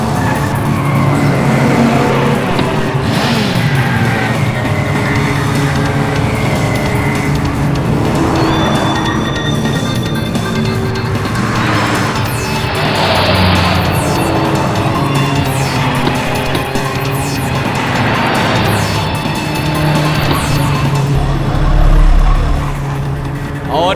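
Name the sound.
race cars speeding in a car race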